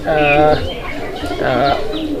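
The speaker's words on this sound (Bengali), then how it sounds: "এটা হচ্ছে একটা ময়নাঝাক কবুতর" A Moynajhak pigeon cooing up close, two loud throaty coos about a second apart with a quieter murmur between them.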